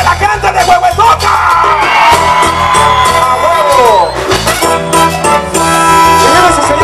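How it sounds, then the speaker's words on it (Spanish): Crowd of a live sonidero dance in Huehuetoca shouting and cheering loudly over dense, continuous music, voices whooping throughout and blending with the band. "¡El grito y el desmadre de la gente de Huehuetoca!"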